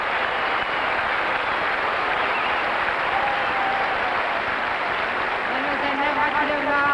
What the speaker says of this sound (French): Des applaudissements mérités pour Madame Lloyd